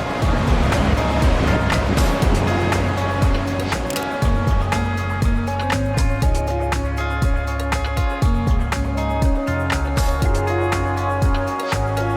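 Big ocean waves break and wash ashore on Nusa Penida, Bali, in a loud, continuous churning surf that crashes over and over at close range.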